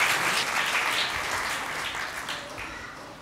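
Sustained applause from a church congregation at a Mass for the Feast of Saints Peter and Paul, a dense, steady clapping that stays loud throughout and fades slightly toward the end, with no voices over it.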